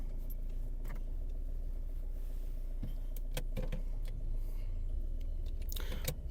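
A Skoda Octavia 1.9 TDI diesel with an automatic gearbox idles after starting, a steady low clatter close by, with a few clicks and jangling sounds on top.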